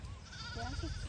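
A sheep bleats briefly at moderate distance, its short wavering cry rising over low rumbling outdoor noise.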